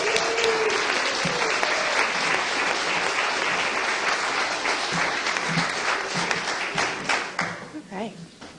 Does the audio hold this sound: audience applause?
yes